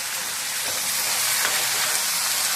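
Tomatoes sautéing in a pan for a prawn curry, giving a steady, close frying sizzle and hiss that holds evenly throughout, with no voices.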